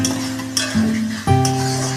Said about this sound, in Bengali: আলুটা মশলার মধ্যে দিয়ে দেবো দিয়ে আলুর সাথে মশলাটা ভাজা হবে